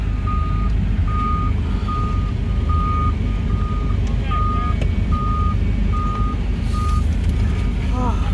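A truck backs up at a wildfire scene, its reversing alarm beeping in a steady evenly spaced series of about nine tones, loud over a heavy rumbling engine and road noise.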